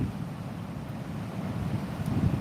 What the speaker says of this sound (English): Some big rollers coming in at the moment.